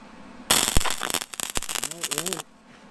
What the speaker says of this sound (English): I'm going to get this set down and we're going to try a weld